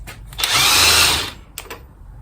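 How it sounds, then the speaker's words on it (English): An impact power tool loosens the middle strut bolt on a 2002 Acura TL Type S. One loud, close burst lasts about a second, then a few faint clicks follow. "And we are ready to pull this middle bolt."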